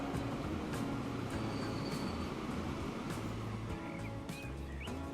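Game train pulling out of a station in Transport Fever 2, a steady dense rumble of engine and rolling wagons with faint tonal squeals, continuous and fairly loud throughout.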